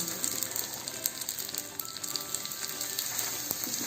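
Dabeli buns toasting in butter on a hot pan give off a steady, close sizzle and crackle with small scraping clicks, continuous throughout with no talking.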